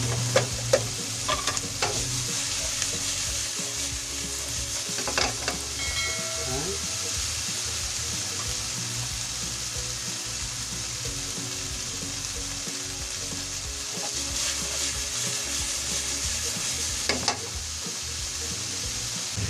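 Potatoes sizzle and crackle steadily in a hot pan while a utensil scrapes and stirs them, with roadside street noise faintly in the background.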